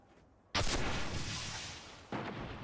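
The Dreamwaker weapon in the Destiny video game fires from the hip, giving two sharp, booming shots about a second and a half apart, each followed by a long rumbling decay. No voices are heard.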